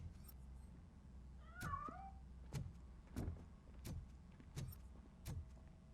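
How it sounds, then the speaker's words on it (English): Cat in the RoboCop: Rogue City video game lets out a single wavering meow early on, followed by a steady series of soft, evenly spaced clicking or tapping sounds over low background hum. "That cat must be hiding inside."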